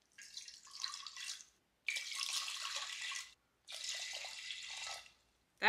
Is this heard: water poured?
yes